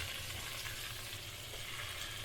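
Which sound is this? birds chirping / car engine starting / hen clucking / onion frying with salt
onion frying with salt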